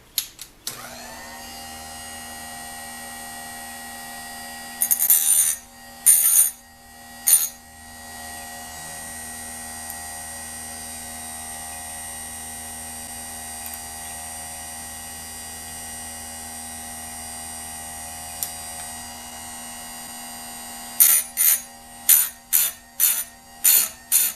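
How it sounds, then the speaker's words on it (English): A bench grinder sharpens the teeth of a McCulloch 3516 chainsaw chain, running as a steady motor hum throughout, with short bursts of metallic grinding at the start and a quick rhythmic series of tooth-by-tooth grinds near the end. "The first thing I need to do is turn on the grinder."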